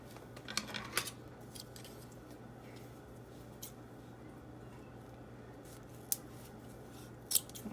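Scissors snipping twine for a mason jar craft, a few faint, sharp clicks scattered across a quiet room with a low steady hum underneath.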